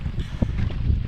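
Strong wind gusts outdoors buffet the microphone with a low, rumbling roar that swells and dips unevenly for about a second.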